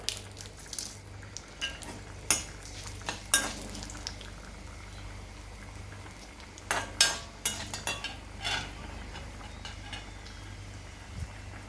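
Mustard seeds and dried red chillies fry in a pan with a low bubbling hiss, broken by scattered sharp pops and crackles that cluster in bursts over the span.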